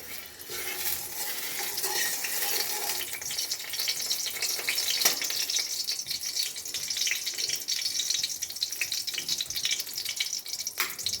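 Garlic frying in about two spoons of hot oil for a Bengali jute-leaf greens dish, giving a steady, close, bright sizzling hiss that holds throughout without speech.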